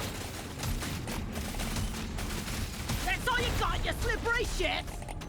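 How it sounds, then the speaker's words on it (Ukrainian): Loud, dense bursts of explosions and gunfire in the video game Deep Rock Galactic: Survivor roll on continuously, with a few brief tonal blips near the end. "Вибухи, вибухи, вибухи, неприємно."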